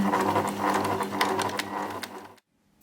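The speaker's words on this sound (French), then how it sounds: "on va coudre sur cette couture" Sewing machine stitching a zigzag seam on a torn, holed trouser hem near a rivet, running steadily with a dense mechanical whir and rapid needle clatter, close and loud for about two seconds before stopping abruptly.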